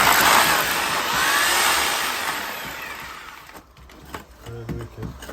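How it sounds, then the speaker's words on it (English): A vacuum cleaner drones steadily in another room during a split-system air conditioner installation, loud at first, then dropping away, leaving softer scattered household noises. "I have someone vacuuming on the other side."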